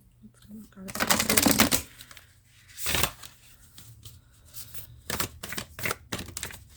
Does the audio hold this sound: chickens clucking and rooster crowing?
no